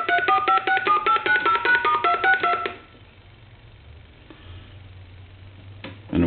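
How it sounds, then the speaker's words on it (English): A Crosley wooden wall telephone redials a number in a rapid run of loud, clean DTMF tones lasting about two and a half seconds. The tones give way to a faint line hiss and a few soft clicks, with no voices. "Then redial."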